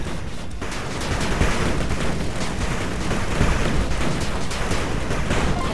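Dense, sustained gunfire and explosions from massed units in the retro-styled real-time strategy game 8-Bit Armies, a continuous loud barrage of rapid shots and booms with no pauses.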